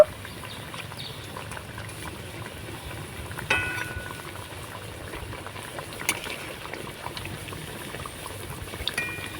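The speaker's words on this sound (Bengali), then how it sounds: "এবার আমি পিঠেগুলোকে উল্টে পাল্টে লাল লাল করে ভেজে নেব" Semolina pitha cakes fry in oil while being turned, producing a soft, steady bubbling sizzle broken by a few sharper clinks and scrapes of a utensil.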